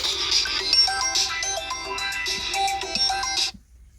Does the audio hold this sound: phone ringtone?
yes